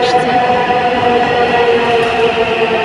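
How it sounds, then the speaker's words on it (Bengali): A metro train pulls into a station with a loud, steady rumble and whine of wheels on rails, close and sustained throughout. "মেট্রো চলে আসছে।"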